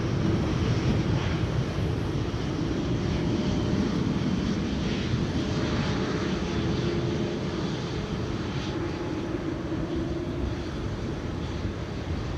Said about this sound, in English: Delta Airlines taking off.